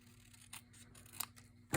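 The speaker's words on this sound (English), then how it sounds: "I'm gonna snip the label off." Scissors snipping a label off a card insert, a few faint, quick clicks followed by a louder rustle at the end.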